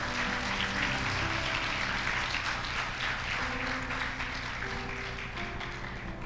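A church congregation applauds in a sustained, full wash of clapping that holds steady throughout, with a low, constant hum beneath it.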